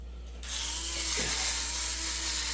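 A pepper grinder cranks out pepper for pulled pork, a close, steady gritty grinding and ratcheting that starts abruptly after a moment of quiet and runs on continuously.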